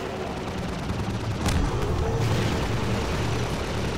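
Rapid gunfire and combat noise in the video game Half-Life 2, a dense continuous rattle of shots with a louder burst partway through.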